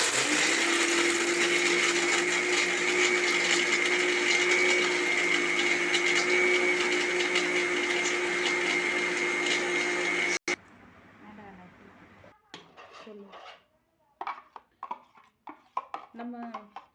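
A blender grinds almonds, cashews and cardamom into powder with a loud, steady whirring hum for about ten seconds, then stops abruptly, leaving quiet clinks and a person speaking.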